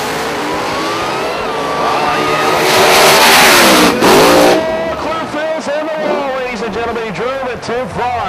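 A drag race car's engine howls at high revs with a stuck throttle after a crash into the wall, loud and rising, then wavering through rapid pitch swings, under a track announcer's voice.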